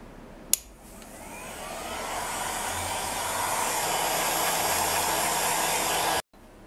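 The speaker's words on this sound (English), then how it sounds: "Now I'm going to use a heat gun on the lower setting." After a sharp click, a heat gun on its low setting whirs up and blows steadily on ice over polymer clay with a smooth, rushing hiss, then cuts off abruptly.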